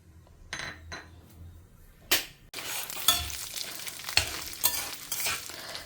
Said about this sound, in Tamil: நான் இப்போ வந்து இந்த உளுத்தம்பருப்பும் மிளகையும் ஆட் பண்ணிக்கிறேன்